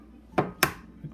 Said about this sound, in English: we'll crack the egg